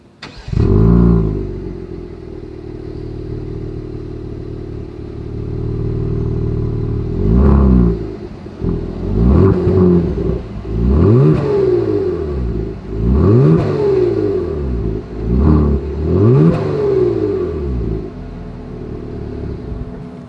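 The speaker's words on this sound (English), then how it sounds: "As always, here is that exhaust clip." A 2021 Genesis G70 V6 idles with a deep exhaust rumble, then is revved repeatedly in short bursts, loud and close, with no talking.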